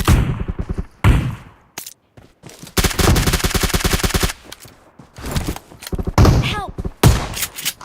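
Close-range gunfire in a 2v2 video game fight: loud bursts of rapid automatic fire and single shots in clusters, separated by short pauses, with voices talking faintly in between.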